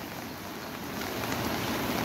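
Heavy monsoon rain pours down over fields and small overflowing streams, a dense steady hiss that swells slightly louder toward the end, with no voices.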